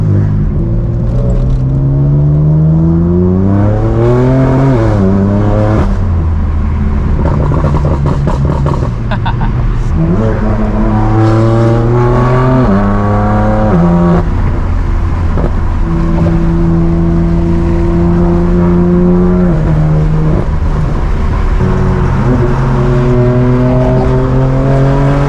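BMW F80 M3 with an aftermarket exhaust driving hard, its loud engine note climbing in pitch through repeated acceleration pulls with quick drops at each gear shift, a sustained close-up roar throughout.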